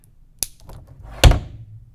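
Plastic ECW wrestling action figures clack together as one headbutts and knocks the other over: a light tap, then a louder hollow thunk with a brief clatter, close and alone.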